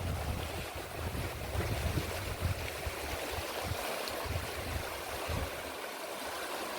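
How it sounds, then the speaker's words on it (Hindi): Water rushing steadily beneath a small footbridge on the Narmada river, a continuous broadband wash with faint low gusts, fairly close and alone with no talk. "पानी की एक खरखर आवाज़ ऐसे ही हौसला बढ़ा रहा है"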